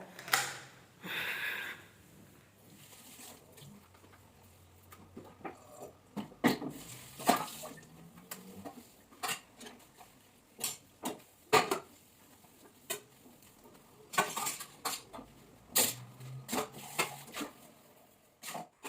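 Dishes being washed at a sink: scattered clinks and knocks of pots and utensils with occasional water splashes, fairly quiet and intermittent.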